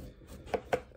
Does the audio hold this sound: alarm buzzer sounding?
no